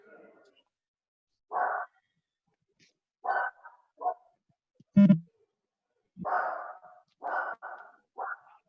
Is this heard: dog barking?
yes